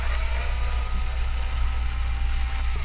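A screwdriver works loose the screws on the back cover of an MSI MS1541 gaming laptop, giving a close, steady mechanical whir with a low buzz and faint ratcheting, and no talking.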